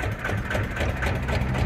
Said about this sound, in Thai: เราก็ดัดแปลงใช้เครื่องยนต์ Kubota ตัวนี้ ET ครับผม ET 110